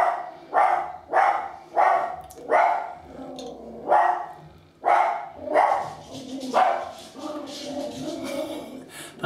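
A dog barks in a steady series of about ten loud, close barks with short gaps between them, tailing off into whimpering and yipping at the end.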